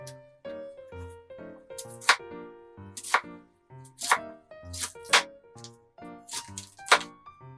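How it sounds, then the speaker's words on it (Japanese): A sharpened kitchen knife chops onion on a board for Bolognese ragù, making crisp, regular knocks about once a second, close and clear over soft background music. "玉ねぎ切っていきます"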